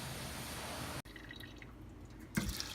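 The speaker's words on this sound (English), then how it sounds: "we just rinse them under water to get the rest of the salt off." Salted, pressed daikon is rinsed under running water: a quiet rush of tap flow, then soft scattered drips and small splashes nearby.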